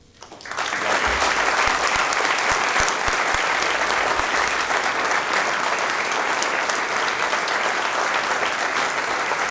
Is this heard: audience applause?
yes